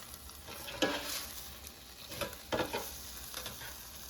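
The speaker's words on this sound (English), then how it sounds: "let's flip the skirt steak over so it cooks evenly on both sides" A skirt steak is flipped in an air fryer basket, giving a faint sizzle with a few brief clatters and scrapes of tongs and metal mesh, heard up close without speech.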